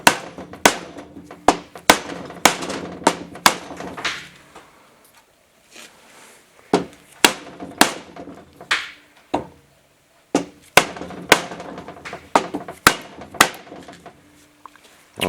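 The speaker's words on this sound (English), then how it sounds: "We're going to tap this down with just a dead blow hammer" A dead blow hammer taps a bearing cup into a Willys CJ3A transfer case during a rebuild, giving close, sharp, fairly loud blows in quick runs with a short pause between bursts.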